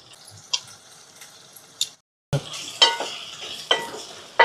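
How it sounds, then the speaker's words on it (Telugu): Onions and green chillies fry in a pan for a bitter gourd tamarind curry, a soft sizzle broken by sharp scraping stirs and ladle taps, with a brief silent gap midway. "ఇలా చక్కగా ఉల్లిపాయలు అయితే బాగా వేగిపోవాలండి, పచ్చిమిరపకాయలు కూడా వేగిపోవాలి"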